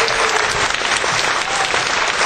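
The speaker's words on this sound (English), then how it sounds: "let's give them a nice round of applause here today" Dense, steady applause from a large morning crowd at a live radio broadcast event, loud and close, a continuous wash of clapping with no pauses.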